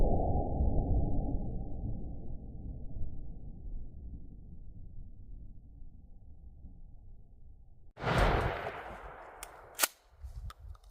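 A shotgun fires a Dumbbell slug into a bag of Quikrete with one sharp, loud blast and a short echo, followed by a fainter impact crack and small clicks after a stretch of steady low outdoor rumble.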